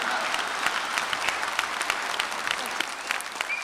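Audience applause at a Kalyanamalai special debate program, many hands clapping in a steady crackling patter that stays even and moderately distant from start to finish.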